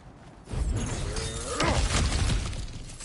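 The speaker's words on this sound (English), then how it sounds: "Ah, back to smashing through things for fun and profit." Ground cracking and breaking apart in God of War Ragnarok, a burst of rumbling crumble and debris lasting a couple of seconds over a low game ambience, loud and close.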